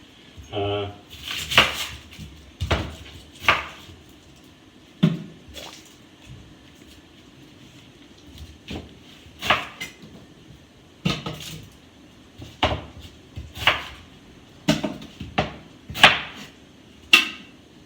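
A Spanish onion being chopped on a board and dropped into a pan, giving a run of sharp, irregular knife knocks and clatters at close range, with light kitchen clinks and no talking.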